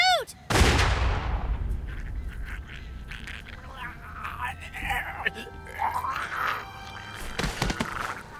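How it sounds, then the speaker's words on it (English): A single loud gunshot in a tense TV drama scene, a sharp broadband crack near the start followed by a ringing decay, with shouted, agitated voices talking before and after. "Why did you shoot?"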